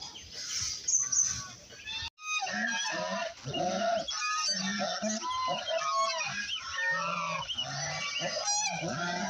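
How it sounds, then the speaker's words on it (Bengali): Domestic geese with their half-grown goslings honk loudly and repeatedly at close range in a village yard in Jamalpur, the calls overlapping in a near-continuous chorus after a brief pause. "এগুলো আমার রাজহাঁস।"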